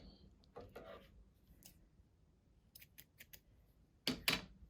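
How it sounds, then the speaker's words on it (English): Scissors snip weft yarn at a rigid heddle loom, giving a few faint crisp clicks, a quick cluster of them, and then one louder, close snip at the end, with no voices. "I'm going to unwind some of this, and then I will cut it."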